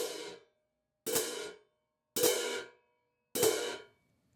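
Four crashes on an 18-inch cymbal struck at low speed with medium offset, each hit evenly spaced about a second apart, fading quickly to silence between strikes.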